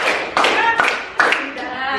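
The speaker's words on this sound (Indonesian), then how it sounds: "tepuk tangan 1 kali, tepuk tangan 2 kali, tepuk tangan 3 kali, tepuk 4 kali" Hands clapping in a counted pattern during a teacher training session, a few sharp grouped bursts of claps with short pauses between them, close and fairly loud.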